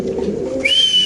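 A male racer pigeon gives a single short coo in a caged bird market, followed by a thin sustained whistle-like tone, close and moderately loud.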